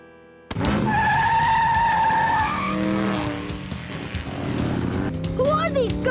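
Cartoon cars racing in an animated chase, with loud high tire squeals and revving engines sweeping past close by, followed by further skids and squeaks; a voice speaks over part of it.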